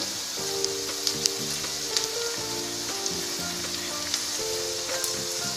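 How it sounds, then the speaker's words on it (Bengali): Chopped chilies and carrot go into hot tempering oil for a tadka and crackle loudly, a constant close sizzle with scattered pops and faint tones underneath, and no voice. "আমি এখন এখানে লঙ্কা কুচিগুলো দিয়ে দিচ্ছি, গাজর কুচো"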